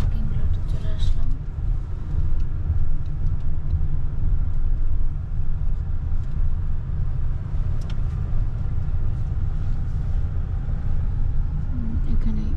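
A car rolls into a church parking lot, its low engine and road rumble steady throughout while people talk inside the vehicle.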